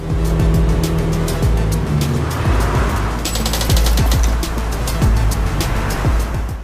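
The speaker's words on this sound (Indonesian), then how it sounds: "Ivan menggaspol mobil Linares yang berjenis Audi TT tahun 2002 berwarna biru demi mendapatkan cuan" A blue 2002 Audi TT driven hard, its engine roaring loudly and steadily throughout, with a few sharp transient clicks and knocks over the continuous drone.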